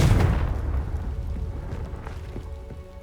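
A Confringo blasting spell detonates in the Hogwarts Legacy video game, one heavy booming explosion at the outset that rolls off into a rumbling, debris-like tail lasting a few seconds.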